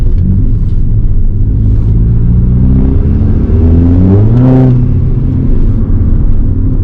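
Loud Skoda Octavia vRS petrol turbo engine revving after a spark plug and coil pack change, a deep steady rumble that climbs sharply in pitch around the middle and then drops back, close by and without talk.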